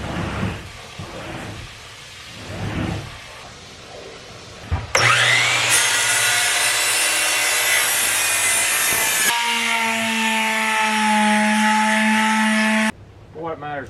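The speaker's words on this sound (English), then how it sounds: "This white oak is giving the old miter saw a hard go." A miter saw cuts white oak boards, a loud close motor whine that rises as the blade bites and strains through the hard wood, then spins down. Talk and handling noise come before the cut.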